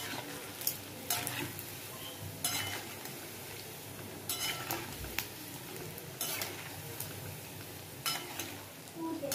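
Paneer koftas deep frying in hot oil: a quiet continuous sizzle with repeated scraping and clinking as a utensil turns them in the pan, fairly faint, no talk.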